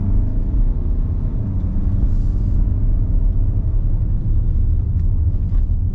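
A 2021 Hyundai Palisade with a 2.2-litre four-cylinder turbo diesel accelerating in sports mode, heard from inside as a steady, loud low engine drone and road rumble with no speech.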